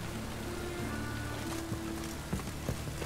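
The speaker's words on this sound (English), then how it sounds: "Rain again." Rain patters steadily on surfaces in The Witcher 3, a soft, even hiss of drops with a faint low hum underneath and a few slightly sharper drips near the end.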